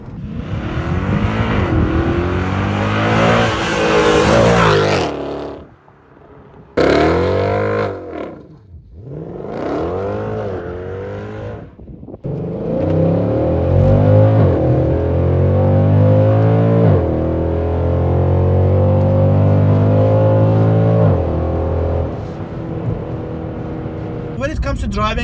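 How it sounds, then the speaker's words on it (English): Exhaust of a BMW E60 M5 or Mercedes W211 AMG revving, loud and close, rising and falling in pitch through repeated throttle blips, with a brief cut near the middle and a voice talking over much of it. "Oh, that sweet exhaust."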